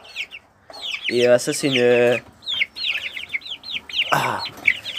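Chickens cluck in a backyard flock that includes a rooster and a frizzle Pekin bantam, with repeated close, loud clucks and squawks and one longer strained call, while a person speaks briefly over them.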